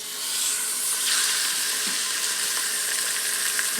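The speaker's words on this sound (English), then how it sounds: "now we're looking for it to start sizzling" Chicken breasts sizzling in hot oil in an Instant Pot, a steady bright hiss and crackle with small pops, close and fairly loud, with no talking.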